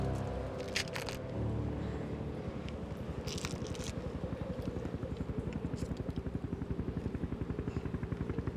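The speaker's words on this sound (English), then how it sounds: "Helicopter." A helicopter flies nearby with a steady rapid rotor chop, rhythmic pulsing that grows more distinct over several seconds, with a few brief crackling noises close by at the start.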